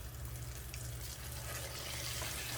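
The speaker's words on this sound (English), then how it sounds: "I am going to fry these," Spare ribs frying in hot oil in a pan, a steady, dense sizzling crackle close up that holds at an even level throughout, with a low hum underneath and no talking.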